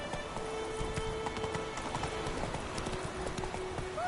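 Roach the horse galloping in a video game, rapid rhythmic hoofbeats thudding steadily under faint ambient game sound, close and continuous.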